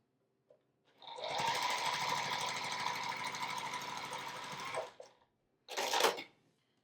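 A sewing machine stitches a quilt block seam in one steady, fast run of about four seconds, then stops, followed by a short second burst.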